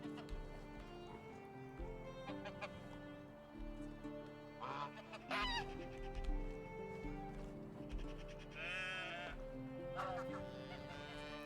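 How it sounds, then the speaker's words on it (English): Sheep bleat loudly and repeatedly in a wintry farm scene in the medieval village game Medieval Dynasty, several animals calling over each other above steady game music, with a brief clip-clop and a voice speaking in the background. "I do have a lot of male sheep."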